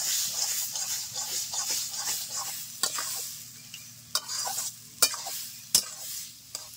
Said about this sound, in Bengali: এখন দিয়ে দিচ্ছি চিনে বাদাম।